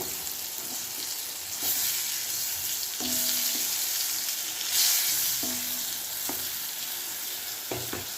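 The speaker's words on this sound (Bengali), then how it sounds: "পাঁপড়টা ভেজে ওই তেলেই আমি এখন পটলগুলো ভেজে নিচ্ছি।" Pointed gourd fries in oil left over from frying papad, a steady hissing sizzle throughout with occasional spatula scrapes and stirring knocks, moderately quiet and close, no voices.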